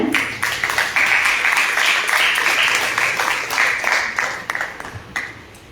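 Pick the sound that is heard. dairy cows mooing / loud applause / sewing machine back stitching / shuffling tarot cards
loud applause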